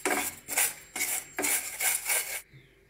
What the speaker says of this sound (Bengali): সেমাইগুলো এখন আমি একটু লালচে করে ভেজে নেব।